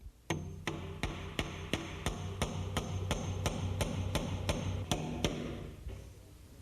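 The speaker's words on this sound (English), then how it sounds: "And then nail it up." Finish nails are hammered in to install window trim: a run of about a dozen sharp, evenly spaced hammer strikes, close and loud, with a faint hum between blows and no talking.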